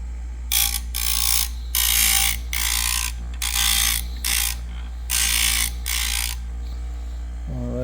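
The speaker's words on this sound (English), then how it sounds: "Now we're gonna grind it a little bit," A VEVOR bench buffer in a cabinet shop grinds a chisel: a steady low motor hum runs throughout, broken by about six loud, harsh rasping bursts as the steel meets the wheel, with no talking.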